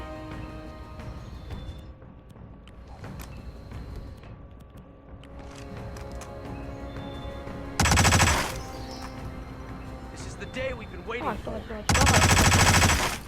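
Gunfire in the Hitman video game, with bursts of rapid automatic shots and single cracks over an ambient game soundscape, two sharp loud volleys standing out near the end.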